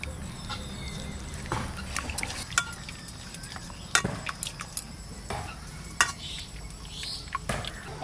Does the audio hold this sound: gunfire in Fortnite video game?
no